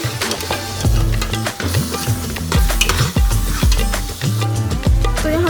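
Minced meat keema fries in a pan with spices and tomatoes while a spoon stirs it. Loud scraping strokes come in repeated bursts over a continuous sizzle.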